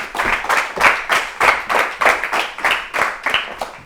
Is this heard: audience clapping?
yes